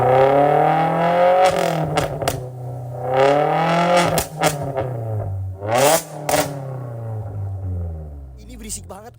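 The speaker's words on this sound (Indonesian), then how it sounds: "Kita tes geber dulu, guys." Kuma CX-3 aftermarket motorcycle exhaust revved repeatedly in sharp throttle blips, with a deep, round tone that rises and falls several times, heard up close alongside a person talking.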